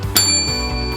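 A bright notification bell dings once near the start, its ring sustaining and fading over a low steady musical bed.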